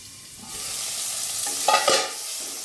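Potato, mango and onion frying in a pan for a rui fish curry, giving a steady sizzle that swells as the mixture is stirred, with a few scraping clinks of the spatula.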